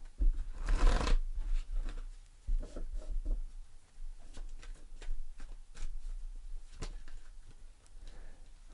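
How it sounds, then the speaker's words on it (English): Tarot cards are shuffled and drawn by hand during a reading, a burst of riffling near the start followed by scattered soft slaps, flicks and taps of cards being laid down, close and with no talking. "I'm going to pull a card for each of these."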